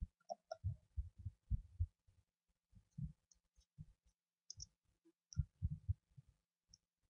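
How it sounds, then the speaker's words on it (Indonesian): Quiet keyboard typing as program code is entered for an Oracle database exercise: irregular soft key clicks in short runs with pauses between them, close and faint, with no voices. "Oke, kita ketikkan programnya."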